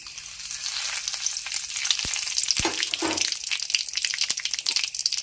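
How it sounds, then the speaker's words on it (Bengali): Panch phoron spices, dry red chillies, black cumin and a bay leaf crackle and sizzle loudly in hot oil, a dense continuous frying hiss with a few sharp pops, up close and without voices. "5 ফোড়নে শুকনো লঙ্কা, কালো জিরে আর তেজপাতাটা দিয়ে দেব"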